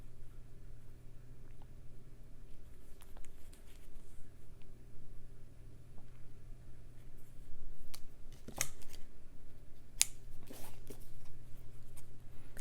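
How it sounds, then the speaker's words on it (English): Scissors snip away excess fabric during a slow-stitching textile project, producing quiet, sparse cuts and small rustles over a low steady hum. "I'm going to trim this down though. I don't need all that extra fabric."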